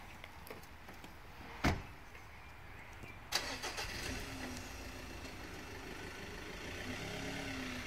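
A car engine cranks and starts with a brief whir and catch, then settles into a quiet steady idle as the driver prepares to reverse alongside a trailer during a towing test; a door thump comes just before.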